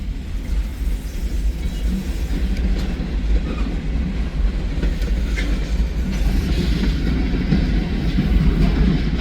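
A heavy train rumbles steadily along the tracks, a continuous low roar with faint rail clatter, fairly close and unbroken throughout.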